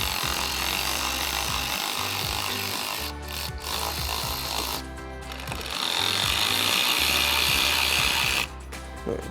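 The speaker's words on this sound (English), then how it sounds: "we'll get in here with our T20 Torx bit on our ratchet and undo the 2 T20 Torx screws" A ratchet fitted with a T20 Torx bit backs out screws while installing fender lenses on a 2020-2026 Sierra 2500, giving repeated clicking pawl bursts over a steady background hum.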